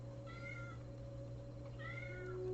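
A house cat meows twice, short soft cries about a second and a half apart, over a steady low electrical hum in a quiet room.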